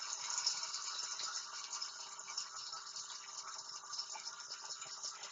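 An outdoor garden fountain with an electric pump trickles and patters softly and steadily, a faint continuous splashing with no voices.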